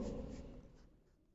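Marker or chalk scrapes across a board during a maths lesson on triangles, a short faint stroke that trails off over about a second.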